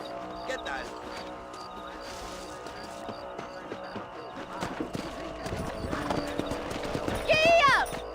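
Horse hooves clip-clopping at a brisk, rhythmic pace in the Western video game Red Dead Redemption, with a horse whinnying near the end and people talking over the hoofbeats.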